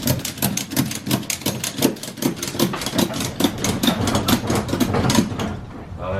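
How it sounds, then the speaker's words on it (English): A ratchet strap is tightened on a motorcycle secured in a trailer, giving a rapid, steady series of close, sharp ratcheting clicks that run for several seconds before stopping. "Actually, I'll ratchet it once more over here."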